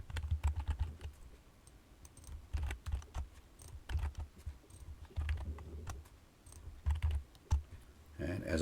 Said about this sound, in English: as I was typing those